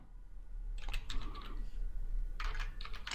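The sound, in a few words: typing code on computer keyboard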